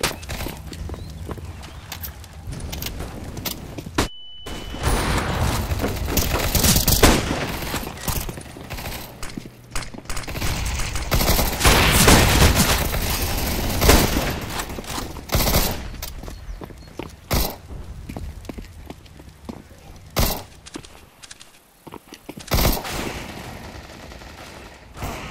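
Gunfire in the video game Counter-Strike: Global Offensive during a casual match: bursts of rapid automatic shots and scattered single cracks mixed with footsteps and game effects, loud and fairly continuous with brief pauses.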